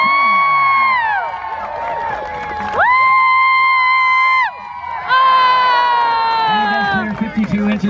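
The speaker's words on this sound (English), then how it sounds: "Cheer him on, guys." Crowd at a fair dog-jumping event whoops and cheers loudly for a dog named Coda attempting a 54-inch high jump, with shouting voices and children's yells rising and falling in bursts across the whole stretch.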